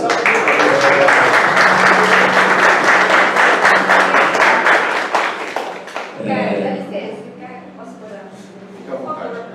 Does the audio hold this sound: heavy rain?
no